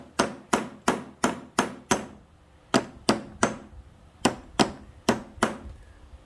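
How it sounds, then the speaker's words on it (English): A hammer strikes metal in sharp, ringing blows, pounding a part onto a John Deere L120 mower, three to five quick hits per burst with short pauses between, close and clear. "It should just pound right on with a hammer."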